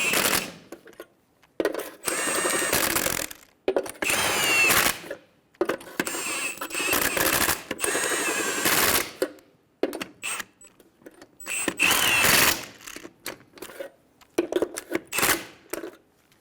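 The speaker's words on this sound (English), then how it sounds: "Snug down the lug nuts." An impact wrench snugs down wheel lug nuts on a 2005-2015 Toyota Tacoma in loud, close, rattling bursts of a few seconds each, separated by short pauses.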